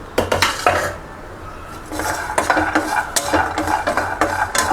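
Roasted dry fruits are stirred in a kadhai with a metal spoon, giving repeated scraping and clinking strokes, loud and close, with no voices.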